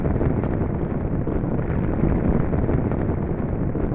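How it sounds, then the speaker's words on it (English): Loud roaring fire in the Clock Tower 2 video game, a dense, low, continuous rumble that stays steady and heavy throughout with no talking. "Wow, it's a loud fire."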